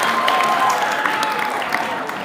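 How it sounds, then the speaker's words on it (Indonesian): Applause from a school crowd at the opening of a culture week and harvest festival at a junior high school in Singkawang, a steady, dense clatter of clapping lasting a couple of seconds. "Aplaus untuk kita semuanya."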